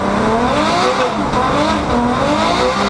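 A Subaru BRZ sports car engine roars steadily at close range, a loud continuous rumble with shifting revs and no voices.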